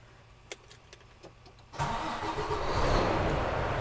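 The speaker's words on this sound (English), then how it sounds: "just going to start my truck" A truck engine cranks briefly, then catches and settles into a steady, loud idle close by, after a few faint clicks and a quiet cab.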